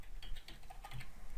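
Rapid typing on a computer keyboard while coding, quick uneven clusters of soft clicking keystrokes close by for just over a second, with no voice.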